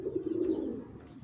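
A pigeon coos softly, one low throaty call that swells and then fades, close by and without other sounds.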